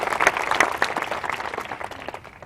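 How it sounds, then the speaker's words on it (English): At a 25th anniversary event, an audience gives a short burst of applause, with close, dense clapping that gradually thins out. "And I want to give them a round of applause."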